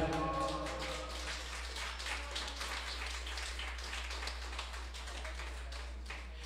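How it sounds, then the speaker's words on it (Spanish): Guests at Gaby's birthday party applauding, a scattered patter of hand claps under a constant low hum, moderately loud and fading slightly over several seconds. "me gustaría que le regalaron un fuerte aplauso a Gaby"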